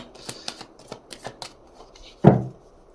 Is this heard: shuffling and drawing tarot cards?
yes